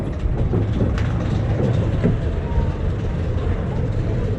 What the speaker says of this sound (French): Donc il y a 3 trains qui circulent là.